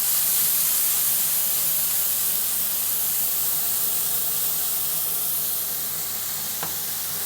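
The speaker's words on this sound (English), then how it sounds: "we're gonna fry the bacon and the green onions. There we go. All nice and sizzly." Bacon and green onions frying in a pan give a steady, close, bright sizzle and hiss that runs on without pause, with one faint clink near the end and no voices.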